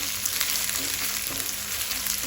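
Onion, green chillies and ginger garlic paste fry in hot oil for a squid chilly fry, a loud, even close sizzle with faint crackles and the occasional stir.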